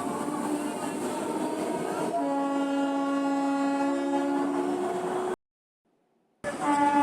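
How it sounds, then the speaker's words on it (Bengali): A local train pulls out of Dum Dum station, heading toward Dankuni. A steady, loud rumble carries a sustained electric whine that steps up in pitch partway through, then drops to silence for about a second before resuming. "এখন আমাদের ট্রেন দমদম ছেড়ে এগিয়ে চললো"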